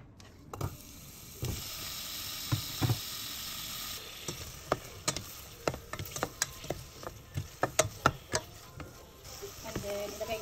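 Pork sizzling and frying in a pan for bulanglang, a steady hiss broken by frequent sharp clicks and taps of a utensil against the pan, close and moderately loud with no talking.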